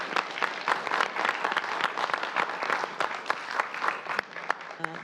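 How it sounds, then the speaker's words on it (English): Steady audience applause at an early literacy years forum, dense clapping from a sizeable crowd filling the whole stretch, fairly close and continuous, with a brief voice at the very end. "A big round of applause, and thank you very much for your contributions tonight."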